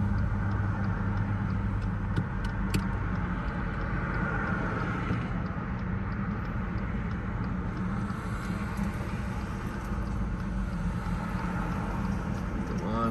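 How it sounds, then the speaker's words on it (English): Road traffic passes in a mountain town ahead of a winter storm, a continuous soft rumble of car engines and tyres at moderate distance, steady and unbroken, with no voices. "Come on, traffic, let me through."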